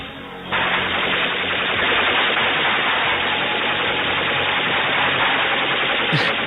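Sustained gunfire rakes a van in a film scene, a dense, continuous roar of rapid shots that starts abruptly after a brief lead-in and holds loud and steady to the end, with no talk over it.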